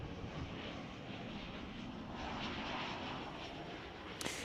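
A fixed-wing airliner flying into Chicago O'Hare airport drones steadily as a broad, continuous engine roar at moderate distance, holding level throughout with no voices.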